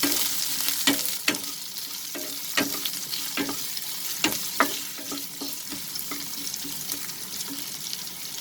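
Crispy chicken stir fry being stirred in a hot pan, with a steady broadband sizzle broken by sharp scrapes and knocks of the utensil against the pan at irregular intervals, close and fairly loud.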